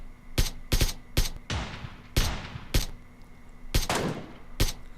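AK rifle fire in PUBG Mobile, seven or eight loud separate shots with booming tails, spaced irregularly, close and alone without talk.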